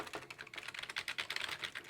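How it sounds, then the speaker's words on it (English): Typing on a Dell computer keyboard, a quick irregular run of light plastic key clicks, close and faint, with no voices. "let's just double check the Dell keyboard once more"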